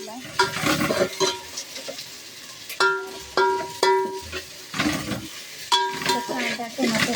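Sliced onions, tomatoes, curry leaves, garlic, coconut paste, cumin and ground chilli are stirred and fried in a pan for spiced rice, a close sizzle broken by repeated metallic clinks and scrapes of a spoon against the pan.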